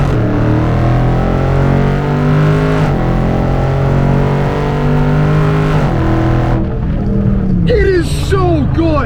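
A Dodge Challenger Scat Pack accelerates hard, its V8 engine roaring loudly in a series of rising revs punctuated by gear shifts, heard from inside the car, with people talking over the engine near the end.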